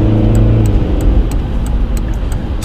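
Cars drive past on a city street, a loud steady rush of passing traffic and engine noise close by, with a few sharp clicks over it.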